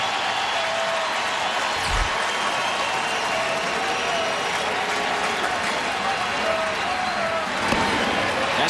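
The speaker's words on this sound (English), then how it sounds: "Home crowd starting to get back into it here at Kauffman Stadium." A home crowd at Kauffman Stadium during a 2015 ALDS playoff baseball game, Astros at Royals, gives a steady, broad roar of noise that holds throughout, with a commentator's voice running over it.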